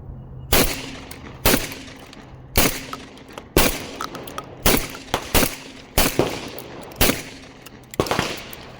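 A Beretta A300 shotgun fired repeatedly outdoors, about nine loud, sharp blasts at roughly one-second intervals, each with a short rolling echo, some shots coming in quick pairs.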